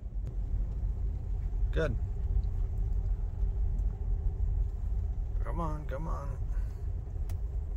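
A car rolls along with a steady low engine rumble as a first-time driver works the gas pedal, while people talk briefly over it, including a short excited outburst.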